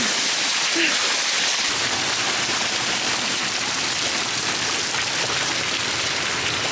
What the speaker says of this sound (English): It's like it's pouring rain.